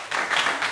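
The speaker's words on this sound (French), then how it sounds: "Applaudissez-le." An audience bursts into applause during a preacher's talk on infidelity in couples, a dense, steady wash of clapping lasting under a second with no voices over it.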